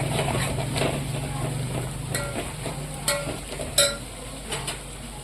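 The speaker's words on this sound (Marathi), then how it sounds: "त्याला चांगलं मिक्स करायचं त्याला पण थोडंसं तेल सुटेपर्यंत छान असं परतून घ्यायचं" Chicken masala being stirred and sautéed in hot oil in a pan: a steady close sizzle runs throughout, with a few sharper scrapes and clinks of the spoon against the pan.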